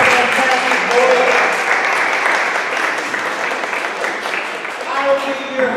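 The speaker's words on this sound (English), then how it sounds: "Give yourself a round of applause for coming out to Forgotten Star." A comedy show audience claps steadily and loudly for several seconds, a dense wash of applause with a voice speaking over it.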